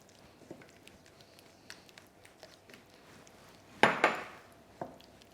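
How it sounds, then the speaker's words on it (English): A spoon stirs lightly beaten eggs into pasta sauce in a pot with the gas turned off, giving soft scattered scrapes and taps, then two sharper metallic clanks near the end. "Now with the gas off, I'm going to mix them through into our sauce"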